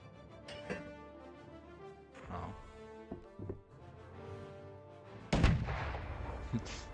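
Ship cannons fire in the naval video game Sail, a series of heavy booms at uneven intervals with a louder, closer blast near the end and rumbling decay between shots.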